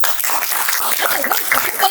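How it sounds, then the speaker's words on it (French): Younger members of an audience at a corporate disability-awareness talk applaud, a brief, moderately loud patter of clapping from a modest crowd mixed with a few voices. "Les moins de 30 ans applaudissez."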